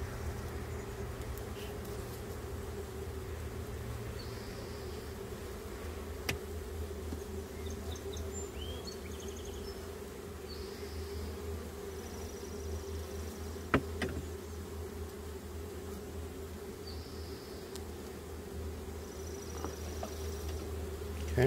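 Honeybees buzz steadily around an open hive during a summer inspection, a dense, continuous drone that holds for the whole stretch with a few brief sharper sounds near the midpoint and no talk.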